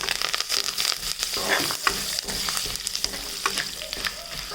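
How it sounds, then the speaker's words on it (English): Mustard seeds, chana dal, urad dal, turmeric and curry leaves fry in hot oil, loud crackling and sharp spluttering pops over a steady sizzle, with stirring scrapes, close and busy throughout. "Fry it until the mustard seeds splutter."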